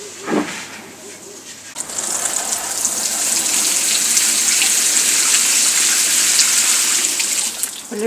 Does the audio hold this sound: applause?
no